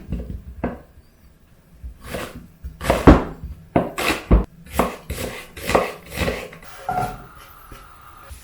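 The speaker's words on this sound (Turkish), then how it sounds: "Menevişleri ince ince doğruyoruz." Repeated knife chops of boiled terebinth shoots on a cutting board, irregular bursts of sharp thuds close by, with brief pauses between runs.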